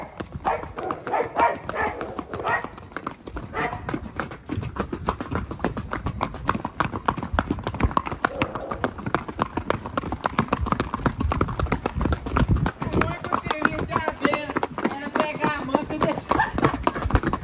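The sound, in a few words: horse hooves clip-clopping as mare is released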